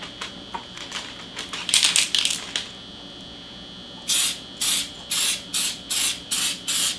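Short hissing bursts of Color Mist gold spray paint sprayed onto a cake, first a few irregular puffs, then a pause, then a steady series of about seven evenly spaced sprays close by.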